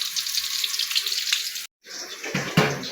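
Water pours steadily into a cooking pot to be boiled for rice, a bright continuous splashing stream that breaks off briefly, then resumes with a few louder sloshes, close and alone without talk.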